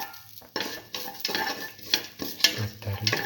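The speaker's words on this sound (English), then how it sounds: "stir thoroughly." A spoon stirs black lentils, ash gourd and rice with salt, mint leaves and green chili in a pot, making close, uneven scraping and clinking strokes with short pauses between them.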